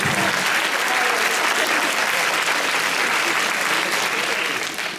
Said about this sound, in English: Mr. Roderic Peterson, let's give him a round of applause